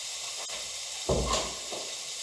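Onions cooking in a pan for a frittata, a soft steady hiss with a brief louder burst of sizzling and stirring scrape midway, close and moderate in level.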